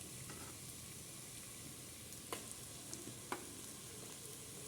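Fish pieces sautéing in masala for a Tamil fish kulambu of thirukkai and thirattai fish, a steady pan sizzle with a few soft stirring knocks, no talking.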